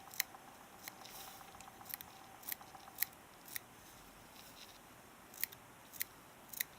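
Scissors trim material while a fishing fly is being tied, giving about a dozen faint, sharp snips at uneven intervals over quiet room hiss.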